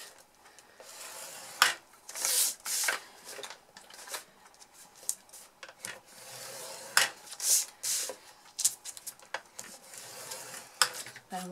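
Card is scored for a stationery gift box, making repeated short scraping and rubbing strokes, close and fairly quiet, in irregular bursts with brief pauses between them.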